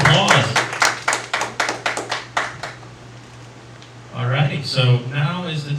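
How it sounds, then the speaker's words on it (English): Scattered hand claps from a small audience at a debate event fade out after a few seconds, then a voice starts speaking over a steady low hum. "Get a round of applause."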